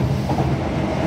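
Steady rumble and rattle from inside a Class 319 electric train in motion, a continuous low drone with faint clatter, no talking.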